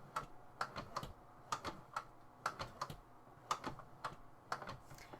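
A Hori MotoGP handlebar controller for PlayStation being turned back and forth, producing sharp plastic clicks in irregular clusters, close and quiet with nothing else heard.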